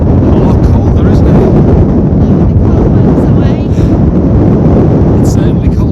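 Strong wind buffets the microphone on a sunny Lake District mountain summit near Wastwater, a loud continuous roar with gusts, and a voice talks over it.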